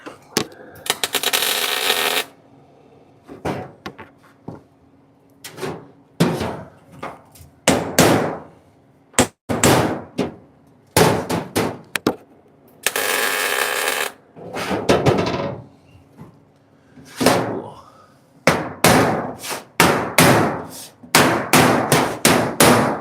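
Sharp metallic hammer strikes on sheet metal against a block, shaping 1937 Zephyr floor panels, ring out in irregular bursts and quick runs of blows, loud and close, with pauses between series.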